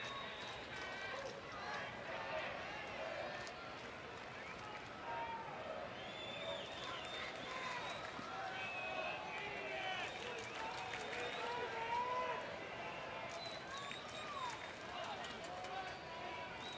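A thinning baseball stadium crowd of about 22,450 chants for Ian Kinsler during a Rangers–Angels game in Texas, a steady, distant roar with rhythmic cheering under continuous play-by-play commentary.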